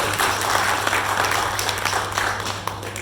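An audience at a corporate team meeting gives a short burst of dense applause, with a steady low electrical hum underneath that fades slightly toward the end.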